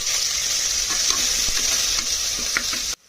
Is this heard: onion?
yes